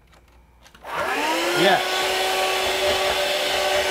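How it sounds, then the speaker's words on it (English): A household vacuum cleaner switches on and runs loudly, a steady whining roar that rises in pitch as the motor spins up and then holds, close by, with a brief word spoken over it. "I'll vacuum"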